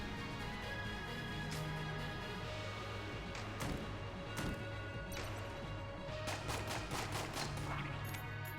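Scattered gunshots hit a wall in the roguelike Enter the Gungeon, sharp cracks and thumps at irregular intervals over a steady droning game background, with a quicker cluster of shots near the end.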